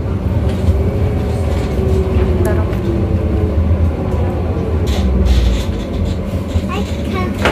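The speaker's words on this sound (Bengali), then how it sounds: "তো ট্রাম চলে গেল" A city tram rolls along and pulls away from a stop, giving a steady, loud low rumble with rattling and wheel noise throughout, with voices faintly mixed in.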